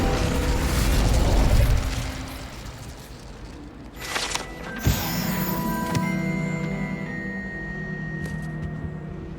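Incendio fire spell cast in the video game Hogwarts Legacy, a sudden fiery burst and pop with a whooshing crackle over ambient game sound and music, followed by a sustained magical shimmer.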